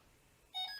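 A Delkim Rx-D receiver gives a short electronic beep as it pairs with a purple bite alarm, a brief bright tone rising out of near silence.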